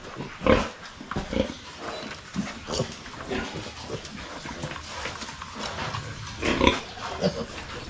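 Piglets on a small farm grunting and squealing close by, a steady run of short grunts with two louder squealing bursts near the start and end, and no talking.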